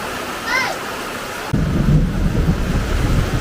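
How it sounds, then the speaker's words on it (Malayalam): Steady rain hisses throughout, with a low rumble of thunder rolling in partway and swelling loudly over the downpour; a few short bird chirps sound early on. "മഴ നിന്നു മഴ പോയി വീണ്ടും വീണ്ടും മഴ"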